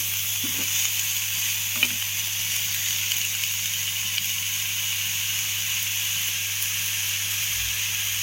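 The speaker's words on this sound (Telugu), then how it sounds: "ఒకసారి ఇలా కలుపుకోవాలి." Spiced cauliflower curry stirred in a pan, a faint steady sizzle under a constant electrical hum, with only a couple of brief scrapes near the start and no speech.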